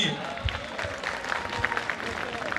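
Audience at an annual college cultural festival applauding Pahari folk performers, a steady crowd clap with scattered sharper hits and some voices murmuring underneath.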